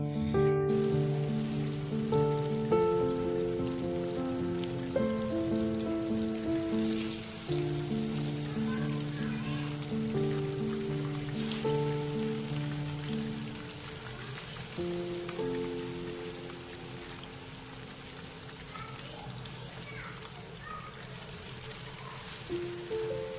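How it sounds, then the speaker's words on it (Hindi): Marinated fish frying in a pan gives a steady, rain-like sizzle that runs the whole time beneath continuous background music, easing slightly toward the end. "फिश हमारी मैरिनेट करने के बाद अब मैं इसको फ्राई कर रही हूँ"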